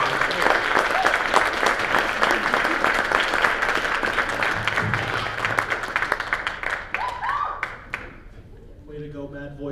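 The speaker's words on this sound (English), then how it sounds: "Give them another round of applause." Loud audience applause fills a hall at a vocal jazz festival, dense clapping with some cheering that thins and fades out toward the end, where a voice begins speaking.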